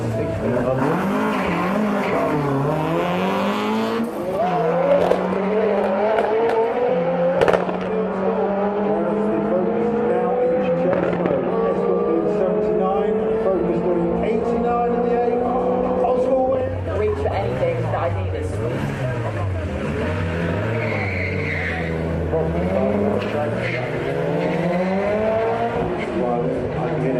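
A Ford RS and an old-school Ford Escort RS 1600 race at the Santa Pod drag strip, their engines roaring loudly and steadily with rising and falling revs for the whole stretch while voices talk over them.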